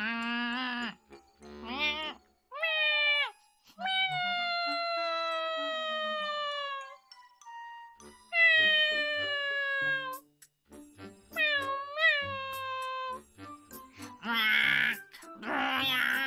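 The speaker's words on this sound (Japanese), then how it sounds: "リアル猫いいじゃん。" A real cat meows repeatedly up close, giving a series of drawn-out, rising and falling meows and moaning wails with short pauses between them.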